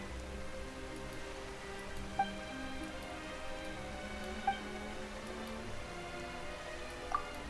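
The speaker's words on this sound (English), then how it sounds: "Why is it raining all of a sudden?" Rain falling in Genshin Impact, a soft continuous hiss of drops with faint scattered ticks, quiet and even throughout.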